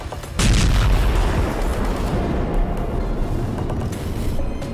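An Israeli air strike in Doha, Qatar, sets off a sudden heavy boom. A sustained, rumbling roar follows, dense and low, and lingers for several seconds without speech.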